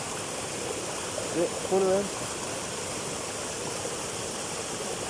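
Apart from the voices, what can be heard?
waterfall with flowing cold water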